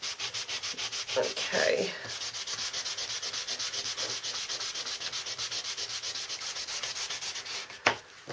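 Hand sanding on a handmade clock project, a steady close rhythmic scrubbing of abrasive paper that runs through the whole stretch, with a louder scrape partway through and a sharp knock near the end.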